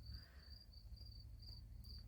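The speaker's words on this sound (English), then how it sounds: "The crickets are just a chirping out there, making their own little music." Crickets chirping outdoors in autumn, faint and distant, with short regular trills repeating at an even pace against a quiet background.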